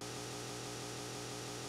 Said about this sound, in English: I can't hear you over the chainsaw, man.